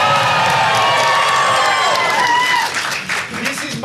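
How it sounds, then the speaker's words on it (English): Crowd cheering and applause from an audience at a school stage musical of The Addams Family, a loud, dense wash of shouts and clapping that swells, then thins toward the end. "The crowd goes wild."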